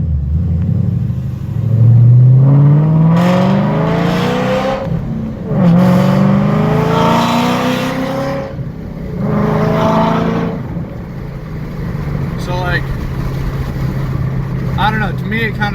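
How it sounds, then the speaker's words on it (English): A 700 WHP Ford GT500 with Flowmaster Outlaw exhaust, long-tube headers and an X-pipe accelerating hard from a light, loud rising engine roar through several gear shifts, then settling to a low idle rumble while someone talks. "I'm going to do an acceleration once this light turns green and I'll show you exactly what I'm talking about"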